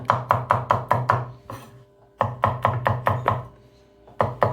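A knife chops garlic into small pieces on a board: quick bursts of sharp, close knocks in an even rhythm, broken by a short pause, with no talk.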